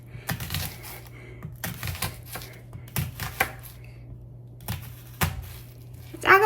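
An onion is chopped with a small paring knife while brunch is cooked, giving sharp, uneven taps in short bursts over a low steady hum, fairly close.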